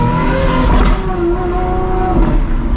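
A Lamborghini SVJ sports car engine idles and revs nearby, its pitch rising and falling in deep, loud throaty blips.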